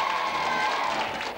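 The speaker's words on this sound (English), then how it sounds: "A round of applause for the contestants." Studio audience applause for game show contestants on a 1991 television program, a dense continuous wash of clapping and crowd noise throughout, fairly loud and fading slightly at the end.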